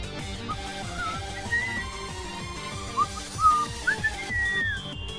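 A person whistles a wavering, sliding tune in short phrases, fairly close and clear over a low rhythmic background of game sounds.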